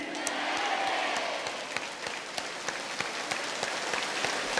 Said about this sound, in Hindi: तो इन भूतपूर्व सैनिकों के लिए दोनों हाथ उठा करके 5 मिनट तक तालियों की गड़गड़ाहट होनी चाहिए।